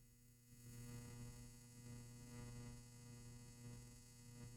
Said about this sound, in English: just waiting for my dryer to stop buzzing